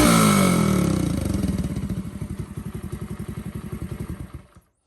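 Motorcycle with a drilled-out, opened-up exhaust, starting with a loud roar that settles into a low, loping, uneven idle with distinct putting pulses before the engine cuts off.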